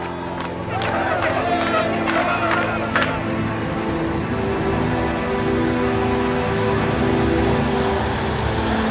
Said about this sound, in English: A tumultuous crowd gathers at Lod Airport to welcome home the returning heroes.